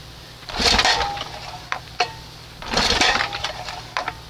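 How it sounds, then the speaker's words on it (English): An old outboard motor with stiff compression is pull-started twice. Each pull gives a burst of rattling, clunking mechanical noise, followed by a few sharp knocks, heard close with no voices. "I hate that clunking noise"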